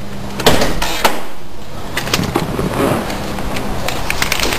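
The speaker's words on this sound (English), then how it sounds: "pull the handle for the hood release." A C5 Corvette's hood release handle is pulled inside the car with the engine off, giving a few sharp clunks and clicks close by over a steady low background hum.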